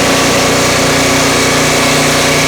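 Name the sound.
Turbosawmill engine cutting knotty pine log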